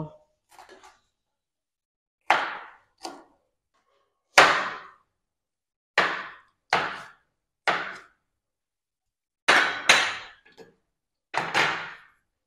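A knife cuts potatoes and plantains into small pieces, producing about ten crisp, separate chopping knocks spaced irregularly between short silences, close and fairly loud.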